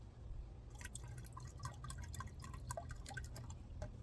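Liquid fertilizer trickles slowly into a container in a stream of small drips and splashes, fairly close and soft over a low steady background hum, with no one talking.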